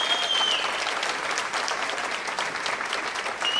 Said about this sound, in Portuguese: vamos bater palma para Ronaldo Bosco.